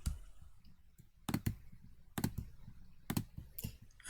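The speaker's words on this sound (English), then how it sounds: "I'm just going to click on them all" Computer mouse clicking during CAD work, a series of soft close clicks, some in quick pairs, spaced irregularly over a low background hum.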